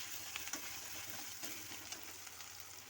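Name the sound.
garlic paste frying with browned onions in pan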